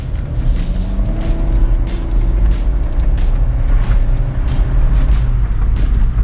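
A Kia All New K3 car accelerating hard, heard from inside as a loud, steady engine drone that climbs gradually in pitch, with road rumble underneath and no talking.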